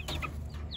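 Young chicks on grass inside a chicken tractor give soft, high chirps and peeps, a few brief calls in quick succession over a low steady background hum.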